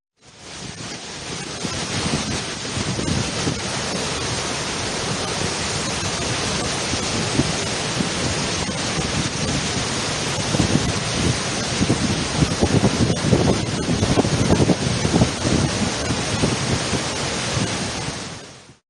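Huge volumes of water surge through the Srisailam dam reservoir, producing a loud, unbroken roar that stays constant throughout, with wind buffeting the microphone and no voices.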